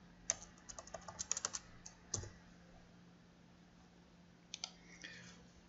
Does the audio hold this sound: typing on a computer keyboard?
yes